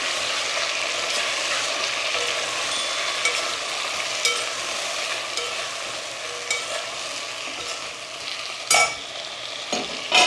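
Cooked peanuts and other ingredients for moong dal khichdi are stirred in a pan, giving a continuous close sizzle with scraping and occasional louder clinks of the spoon against the pan.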